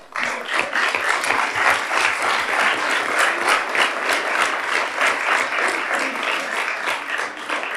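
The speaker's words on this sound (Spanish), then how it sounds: "vamos a darles un aplauso a todos ellos" A crowd applauds steadily for several seconds at a children's council session, a dense, even patter of many hands clapping at once.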